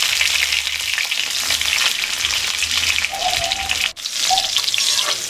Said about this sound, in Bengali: পটলগুলো আমি লাল লাল করে ভেজে নেব